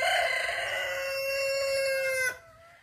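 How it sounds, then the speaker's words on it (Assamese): A rooster crows once, close and loud, in a long wavering cock-a-doodle-doo that cuts off sharply near the end, followed by quiet. "মুৰ্গীও ককৰে কওঁ কৰিছে"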